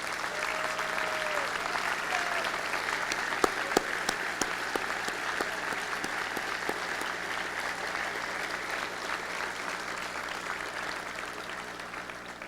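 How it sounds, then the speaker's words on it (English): Graduates at a university commencement ceremony applaud their families in a long, sustained wave of clapping from a large crowd, with a few sharper individual claps standing out near the start. "let our graduates give you a round of applause as well"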